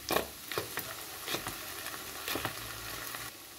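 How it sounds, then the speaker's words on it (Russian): Onion sizzles quietly in hot vegetable oil, with soft scraping stirs breaking up the steady crackle. "На растительном масле обжарим лук."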